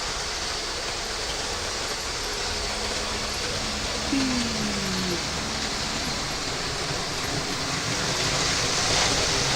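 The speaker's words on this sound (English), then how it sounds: "High speed train speeded up." A model high-speed train running fast on its layout, giving a steady loud rushing whir with a brief rising tonal whine partway through, heard alone without talk.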